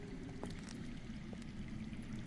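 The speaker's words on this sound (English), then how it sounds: "I hear water. From underground." Faint, steady rush of water flowing underground near a well in Game of Thrones: A Telltale Games, a low continuous murmur with a few soft trickling drips, heard alone.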